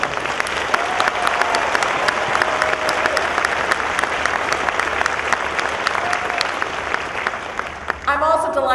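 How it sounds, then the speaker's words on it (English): Steady, sustained applause from a large college commencement audience, dense clapping filling the whole stretch before tapering near the end. "I would like to join President Taylor in one more round of applause for your amazing staff here at Knox"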